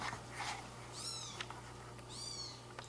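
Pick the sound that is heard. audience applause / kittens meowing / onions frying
kittens meowing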